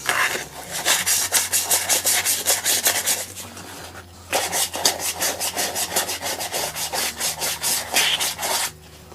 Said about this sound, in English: We'll take some sandpaper to them because they are a little rusty.